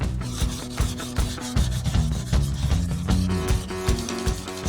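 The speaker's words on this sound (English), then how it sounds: "Taking a little tiny bit of 1000 grit and just kind of rubbing along the edge right here a little bit." Close, steady back-and-forth rubbing of 1000 grit sandpaper along the edge of an electric guitar body, rhythmic strokes repeating about twice per second, with faint tonal hum underneath and no talking.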